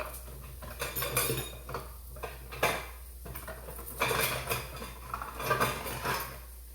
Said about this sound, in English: Let me get my measuring cup so I can at least try to get some type of exact measurement.